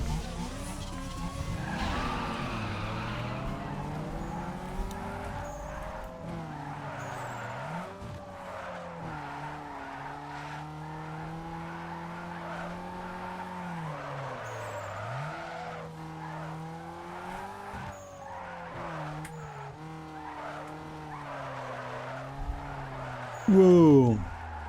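A car drifts with tyres skidding in Need for Speed Underground 2, the engine droning and shifting pitch steadily throughout while tyre squeal rises and falls, a brief louder screech at the end.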